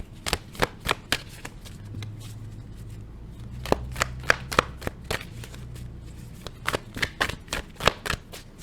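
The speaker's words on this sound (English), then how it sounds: "I'm going to pull these final oracle cards to conclude the reading" A deck of oracle cards shuffled by hand, close and crisp, with bursts of rapid riffling snaps and slaps separated by short pauses and a faint low hum underneath.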